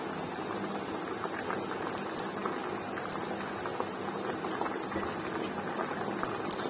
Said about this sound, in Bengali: এখন আমি ঝোলটাকে ভালো করে ফুটতে দেব।